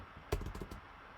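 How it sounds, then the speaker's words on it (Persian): A single sharp keystroke on a computer keyboard, the Enter key pressed once, followed by a couple of softer key clicks close by in an otherwise quiet room. "اینتر رو بزنید"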